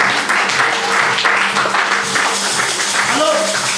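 A church congregation applauding, dense steady clapping with voices mixed through the crowd.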